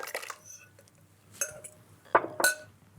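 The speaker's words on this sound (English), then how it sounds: "We'll just mix that together just to evenly distribute that baking powder and also the cinnamon" A spoon mixes dry baked-porridge ingredients with baking powder and cinnamon in a bowl, giving a few quiet, scattered clinks and scrapes against the bowl with short pauses between them.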